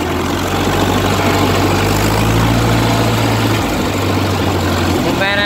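A tractor engine rumbles loudly and steadily with a deep low drone, its pitch dropping slightly partway through as the throttle changes, heard up close.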